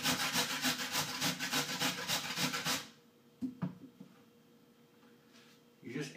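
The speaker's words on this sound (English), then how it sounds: "When you start to grate" Unpeeled potatoes rubbed hard against a grater for hash browns, giving fast, rhythmic, close rasping strokes that stop abruptly, followed by a few faint knocks and scrapes.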